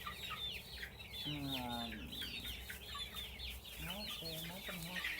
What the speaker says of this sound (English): Look at this beautiful chicken.